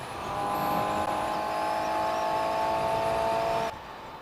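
A 2018 Suzuki GSX-S750 motorcycle's engine while riding, a steady droning hum held at an even pitch for several seconds that cuts off abruptly near the end, with no speech over it.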